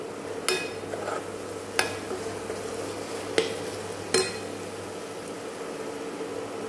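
Onions coated with turmeric and chilli powder being stirred in a pan, a few distinct spoon scrapes and knocks spaced over a soft steady sizzle.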